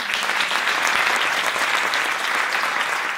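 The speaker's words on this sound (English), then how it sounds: "So I want to give them a round of applause." A large audience applauds at an International Women's Day celebration, dense, even clapping that stays loud and steady throughout the few seconds.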